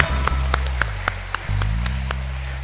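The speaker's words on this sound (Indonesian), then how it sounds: "Oh, tepuk tangan dong." A school audience at an Easter children's service claps in a sparse, evenly spaced rhythm, single sharp claps standing out over a steady low background hum.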